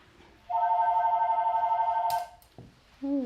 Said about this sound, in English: Oh, that phone's loud.